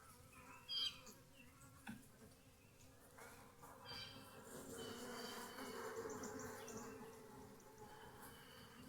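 A swarm of bees buzzes in a low, continuous hum that swells slightly midway, with a couple of brief knocks near the start and no talking.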